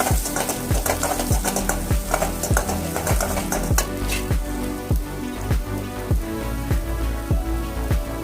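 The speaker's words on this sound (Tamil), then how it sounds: "வெங்காயம் சேர்த்து அதையும் நல்லா வதக்கணும்" Onions sautéing in a pan for curry leaf rice, with a dense crackling sizzle under rhythmic, regular scraping strokes of a ladle, loud and close throughout with no talking.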